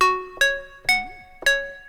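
Dry funky synth lead from Diva with all effects switched off, built on a digital oscillator with the tri-warp wavetable: four bright, harmonically rich notes, each with a sharp attack and a held tone, clear and alone.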